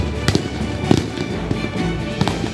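Firecrackers bang during a street clash between two groups in Situbondo, East Java: several sharp, loud, irregularly spaced blasts over a rumbling backdrop, close and distant pops mixed together.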